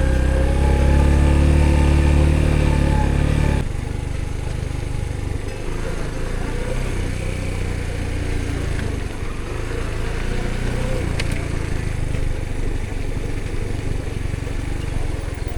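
Motorcycle ridden on a rough, low-grip road in cold weather, a loud close engine drone with a deep throaty rumble at first, then a steadier rough engine and road noise, no talking.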